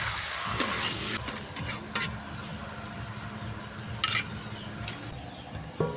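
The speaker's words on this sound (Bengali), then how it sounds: "এবার ভালো করে নেড়ে চেড়ে নেব।" Mushrooms sizzle steadily in a hot pan while a utensil stirs them, scraping and clacking against the metal in irregular bursts over the continuous close frying hiss.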